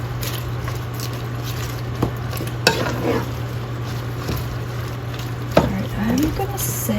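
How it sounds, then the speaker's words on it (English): Handfuls of cabbage stirred in a cooking pan, a soft steady rustle with occasional sharp utensil knocks against the pan over a constant low hum. "Maybe 3 handfuls in, and we'll stir it and see what that gives us."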